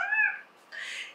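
A female cat, one of the household cats, gives a single short, close meow indoors, followed by a brief burst of breathy noise.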